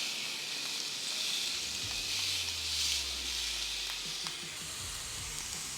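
A steak sizzles on a Ninja Foodi grill just after being flipped, a steady, close frying hiss with a low hum sliding through the middle and faint clicks, no voices.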